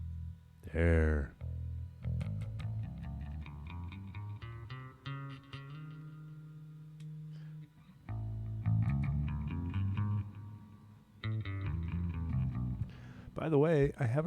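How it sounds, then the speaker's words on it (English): Electric guitar played through an amplifier with the bass boost turned on, heard as chords and picked notes at moderate level, with short breaks between phrases. "I'm literally just using the same guitar sound that I had."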